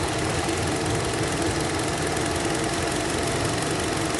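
A 2013 Hyundai Accent engine misfiring at idle, a steady dense mechanical rumble with a rough uneven knock, close and loud, with no talk.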